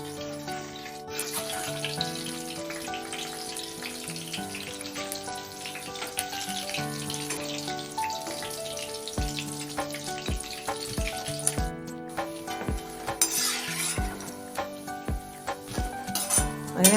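Anchovy fish bajji frying in hot oil, a steady close sizzle with occasional clinks and stirring, and no one talking.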